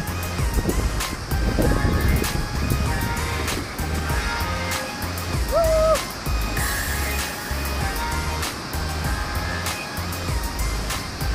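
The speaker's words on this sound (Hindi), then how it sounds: "काफी सुंदर सा वाटरफॉल।" Rushing water from Jung (Nuranang) Waterfall near Tawang roars as a steady broadband wash, with wind buffeting the microphone and scattered background noises on top.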